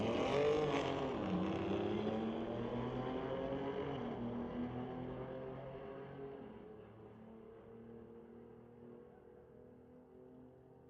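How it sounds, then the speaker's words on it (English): A BMW and a Corvette drag racing at Mission Raceway during street-legal night racing, engines roaring loud and close at first, then fading steadily into the distance as they pull away down the strip. "Bring up Lucas Zhang in the BMW, racing Howlo in the Corvette."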